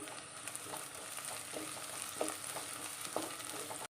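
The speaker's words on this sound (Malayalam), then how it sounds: "പച്ചമുളക് ചേർത്ത് കൊടുക്കാം." Three large green chillies, split in half, hit a pan of curry and sizzle with a dense, steady crackle, close and moderately loud, with small pops and no talking before it cuts off.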